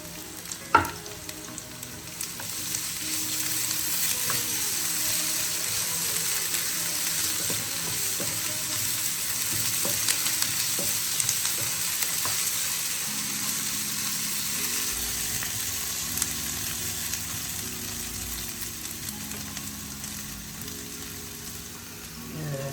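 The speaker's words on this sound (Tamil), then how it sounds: "இப்போ இஞ்சி பூண்டு விழுது போட்டுருவோம்." Ginger garlic paste fries in hot oil in a pan for crab gravy, a steady close sizzle with occasional scraping stirs and clinks throughout.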